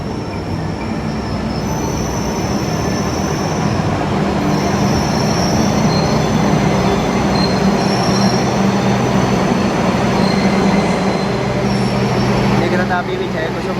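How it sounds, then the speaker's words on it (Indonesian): The Wijaya Kusuma passenger train rumbles steadily into Kertosono station, Indonesia, wheels grinding and squealing with high metallic tones over a continuous loud low roar, with faint voices in the background. "Yang baru datang kereta api Wijaya Kusuma dari Banyuwangi tujuan Cilacap."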